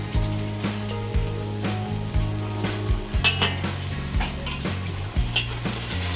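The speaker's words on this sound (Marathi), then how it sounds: "कांदा आपण जरा परतून घेऊया." Onion sautéing in a pan for Maharashtrian batata usal, a steady close sizzle with repeated rhythmic scrapes of a spatula stirring and a few light knocks, and no talking.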